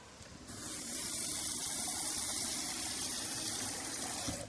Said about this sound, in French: Donc je vais prendre un petit peu d'eau